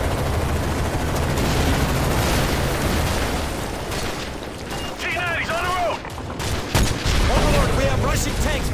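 Dense, rolling gunfire and heavy booms crackle through a Call of Duty battle, loud and sustained with bursts and fusillades, while soldiers' radio voices talk over the din in the middle and near the end.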